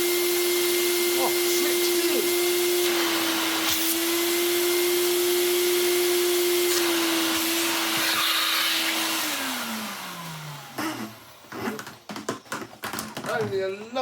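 A Vax Rapide 5150 3-in-1 vacuum cleaner runs on low setting with a steady loud motor whine that holds for about nine seconds, then winds down in pitch before clattering handling noises and a voice follow.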